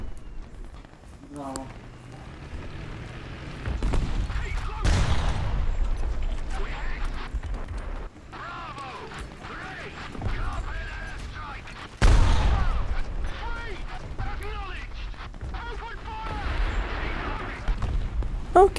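Tank cannon firing HE shells in War Thunder Mobile, heavy booming blasts at several points amid continuous battle rumble and gunfire, with a voice talking over much of it.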